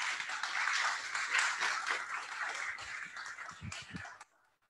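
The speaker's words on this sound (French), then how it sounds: "sous vos applaudissements, s'il vous plaît." An audience at an opening conference applauds a speaker, a moderate crowd clapping steadily for about four seconds before it cuts off abruptly into near silence.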